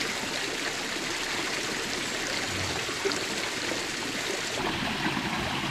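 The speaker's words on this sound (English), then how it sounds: "That's the source water coming down here." Hot spring source water flows down in a steady, close stream, a continuous rushing and trickling babble with no voices.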